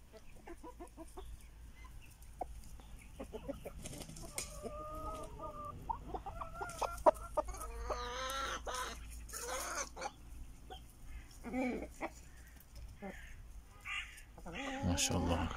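Chickens cluck and murmur close by, with a rooster's louder calls breaking in now and then against a quiet farmyard background.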